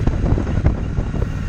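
Wind buffets the microphone during a ride on a Triumph T120 motorcycle on a windy, overcast day, a loud, steady low rushing roar with no talking.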